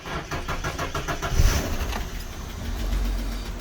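An old Ford Falcon cranks briefly and fires up into a rough, close idle with a quick rev blip. It is loud and up close, with no talking.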